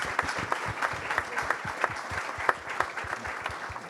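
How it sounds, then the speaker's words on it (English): A conference audience applauds a panel on AI agents with a steady, fairly quiet patter of many hands clapping, sustained evenly from start to end. "Please give this wonderful panel a round of applause."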